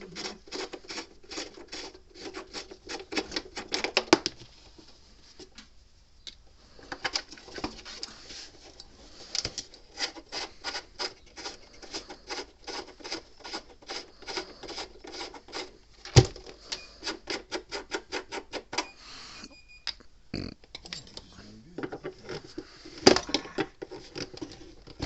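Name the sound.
removing knobs from a Gallagher B200 fence energizer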